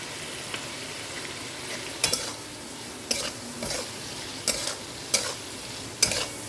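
Prawns with a little salt and turmeric fry in a pan under a low steady sizzle, while a spatula scrapes and clinks against the pan in sharp strokes about once a second.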